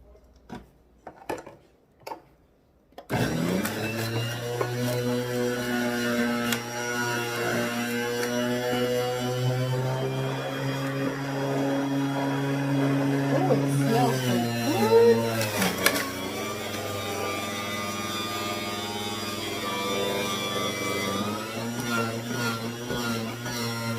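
A juicer grinding carrots, ginger and celery on its level 5 setting, a steady loud motor whir with shifting pitch as the roots feed through, after a few brief knocks at the start.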